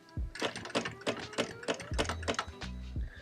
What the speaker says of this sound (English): I'm just gonna go ahead and sew all the way around.